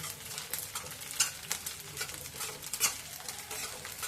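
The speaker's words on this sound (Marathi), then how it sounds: "बघा किती छान असा भाजून झालाय आता तळतळ आवाज यायला लागलाय" Wheat ears roast for traditional shira in a pan, giving a soft, close sizzle with frequent stirring scrapes and light crackles throughout, fairly quiet and without speech.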